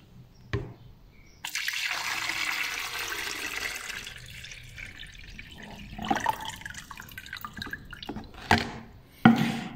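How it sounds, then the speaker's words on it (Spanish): Water from a container is poured into an electric kettle as a continuous splashing stream, followed by a few drips and light knocks, close and moderately loud. "Vamos a vaciar el agua en el hervidor"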